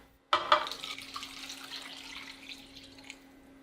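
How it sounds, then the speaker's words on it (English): Water poured into a bubbling soy sauce and salt mixture in a cooking pan for a vegan Tibetan soup, a sudden splashing pour that settles into a steady running, sizzling wash. "When the mixture starts to boil, add 800 milliliters of water."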